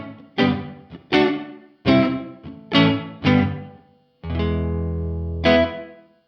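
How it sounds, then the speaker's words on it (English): An electric guitar plays several plucked notes and a sustained chord through an Electro-Harmonix Cathedral reverb pedal set to a short reverb time, giving a short, tight decay, like a small room. "So if I take the reverb time down, real low,"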